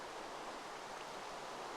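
Steady Minecraft rain, a soft, even hiss of falling water holding at a constant low level throughout, with no voices.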